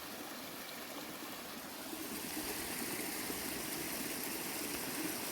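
A small stream flows with a soft, constant trickling wash, faint and steady throughout, with no voices.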